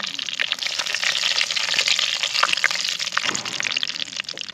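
Whole spices with bay leaf, cinnamon and star anise frying in hot oil for sukka mutton, a steady close sizzle with crackles and pops throughout.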